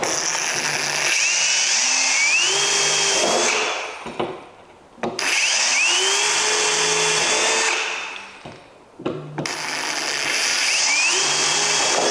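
Power drill boring into a door jamb and driving a hinge screw while hanging a door with a square set reveal, in three loud whining bursts separated by brief pauses, with no talking.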